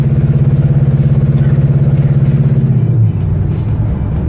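A 1971 Chevelle V8 labours up a hill with an open exhaust, a loud, steady low rumble with a pulsing beat that drops in pitch and changes character about three seconds in.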